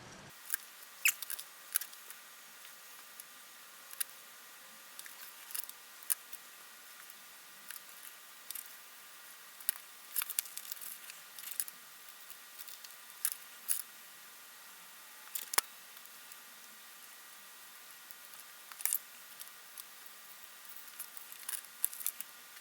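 Scissors make faint, irregular snips as a paper butterfly is cut out for a collage. The quiet clicks repeat unevenly for over twenty seconds above a soft background hiss.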